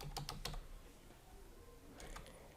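Keys on a computer keyboard are struck in a quick burst of a few close taps, then a pause and a second short cluster, faint and alone with no talking.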